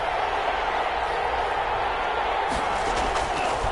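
Roaring stadium crowd in an American football video game, a loud sustained wash of cheering and noise with a few thuds near the end, with a commentator speaking over it.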